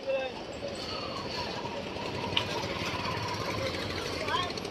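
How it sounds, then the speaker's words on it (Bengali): Engine-powered trawler boats on the Buriganga river in Dhaka chug steadily with a dense, continuous mechanical rumble and clatter, fairly near, with a steady broadband wash of river and boat noise throughout. "এখানে যতগুলো নৌকা আছে সব নৌকাতে কিন্তু ইঞ্জিল বসানো।"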